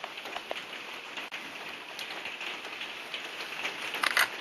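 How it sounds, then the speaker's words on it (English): Steady rain falls outdoors by a lake in the Welsh mountains, a dense, even patter of drops on surfaces with a few louder splashes, with no talking. "Genuinely delighted to see some rain."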